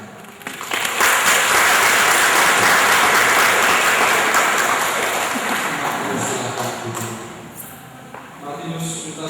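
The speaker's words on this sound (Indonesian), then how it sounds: "Kita beri tepuk tangan." Sustained applause from a church congregation for a newly married couple, loud and dense clapping that swells quickly and then slowly fades over several seconds.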